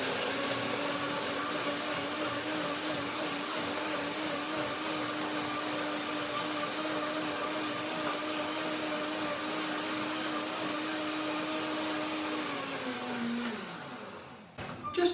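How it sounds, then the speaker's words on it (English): Blender whirring at a steady high pitch as it blends bananas, cashews, lemon and a little water, a continuous motor drone that winds down near the end before a brief clatter. "So I'm making now a quick blending with bananas, cashews, and lemon, a little bit of water"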